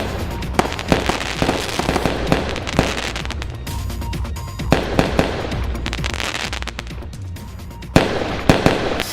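Diwali fireworks and firecrackers burst in a dense, continuous barrage of loud cracks and pops, with sharper near blasts standing out over a crackling wash of distant explosions.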